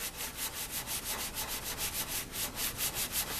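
A very fine sanding sponge rubs the bare wood neck of an old Kraftsman mandolin in steady back-and-forth strokes, about five per second, close and alone with no talk.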